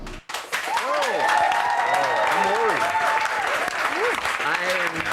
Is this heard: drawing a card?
no